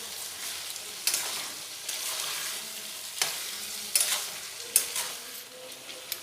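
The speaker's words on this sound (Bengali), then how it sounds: "আবারও খুব ভালোভাবে কষিয়ে নেব।" Chana masala frying in a pan with turmeric and salt for a vegetarian festive dish, steady soft sizzling broken by scraping stir strokes roughly every second, close and moderately loud.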